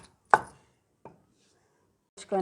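Ivy gourd chutney with chillies and tomatoes being pounded in a stone mortar, a few separate thuds spaced apart, close and fairly loud, with a longer grinding scrape at the end.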